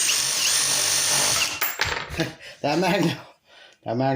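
A DeWalt drill running a flex shaft right angle attachment whines steadily for about a second and a half, then cuts out, with a few short mechanical rattles and bursts of talking after it.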